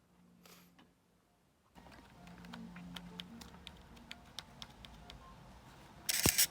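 A Nikon TW Zoom 35-70 film camera's 10-second self-timer ticks in a rapid, steady series of short clicks, ending with a louder mechanical shutter release.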